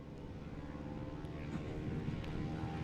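A STOL aircraft at a Rocky Mountain STOL competition spools up its engine for takeoff, a steady, loud propeller drone that builds slightly in power over a few seconds, with wind noise in the background.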